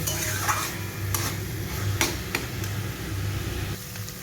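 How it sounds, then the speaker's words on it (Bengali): Banana stem (thor) frying in a pan for a Bengali vegetarian thor boti, stirred as it cooks: a steady, close sizzle broken by repeated scraping stir strokes, with no talking. "এই থোড়টাকে আমি এখনো আরো 5 মিনিট ধরে ভালো করে ভেজে নেব।"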